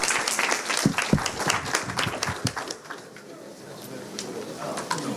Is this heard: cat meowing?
no